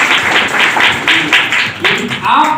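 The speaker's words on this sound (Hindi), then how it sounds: "तालियां होनी चाहिए सभी" Audience applause at a Hindi-language business training and sales motivation session, a room of people clapping in repeated bursts of rough, crackling claps, fairly close and loud, with speech likely mixed in.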